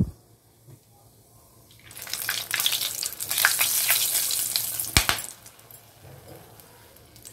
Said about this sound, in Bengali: ফোড়ন ভাজা সুন্দর গন্ধ বেরিয়েছে।